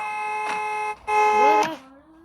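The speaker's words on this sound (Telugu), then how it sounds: "హార్న్ కొడుతున్నారు" A vehicle horn blares in two long tonal blasts separated by a brief gap, loud and close, the second ending in a falling tone.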